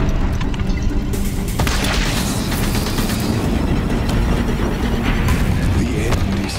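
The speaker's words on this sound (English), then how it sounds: "The Deathbringers keep firing." Deathbringer war machines firing in Horizon Zero Dawn during a boss fight, a loud continuous barrage of booming blasts and crackling impacts rolling on without pause.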